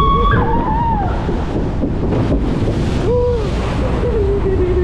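A log flume boat at Parc Astérix rushing through water, with a steady loud wash of splashing and churning water throughout, overlaid by wind rumble and faint voices.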